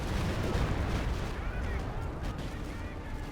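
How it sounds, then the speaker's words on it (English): A Stuka rocket barrage in Company of Heroes 2, heard as a dense, continuous rumble of blasts and booming impacts that stays loud throughout, with faint whistling streaks above. "Fairly average Stuka barrage"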